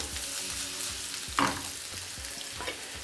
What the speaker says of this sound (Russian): томаты, томатную пасту, аджику. И это все протушим с добавлением бульона